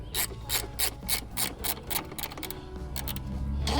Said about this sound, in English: See if I can get that nut loose without breaking anything.